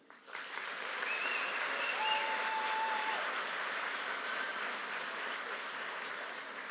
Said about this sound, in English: Could we please have a round of applause for them?